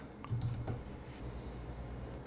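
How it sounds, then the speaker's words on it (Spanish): Keys on a computer keyboard press Command+Z with a few quick, close clicks in a short cluster near the start. A soft room hum fills the remaining quiet, and no one talks. "Voy a presionar Comando Z,"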